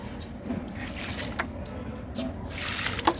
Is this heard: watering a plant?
yes